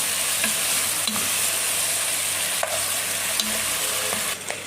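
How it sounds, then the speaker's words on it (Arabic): Egyptian kabsa is stirred in a hot pan, a continuous loud sizzle of frying under occasional soft scrapes and knocks of the spoon, close up with no voices. "وهنا بقى بتقلب معاكم اهي"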